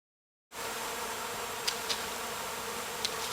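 A honey bee swarm from a foulbrood-infected colony hums in a steady, even drone outdoors, with a few individual bees buzzing briefly close by.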